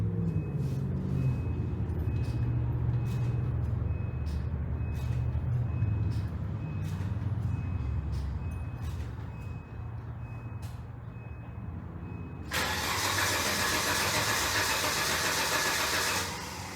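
Abandoned Volvo 850, unstarted for 12 years and fed with a gas-soaked rag, cranks over in a steady repeated rhythm, close and fairly loud, then a loud broad rush of noise takes over near the end.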